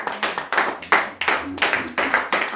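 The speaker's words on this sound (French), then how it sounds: "Est-ce qu'on peut acclamer pour le Seigneur?" A congregation claps in rhythm during a worship service, steady sharp handclaps in a lively repeating beat, close and loud, with no clear cheering standing out.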